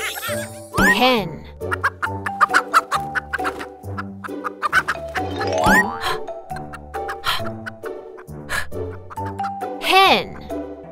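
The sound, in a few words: hen clucking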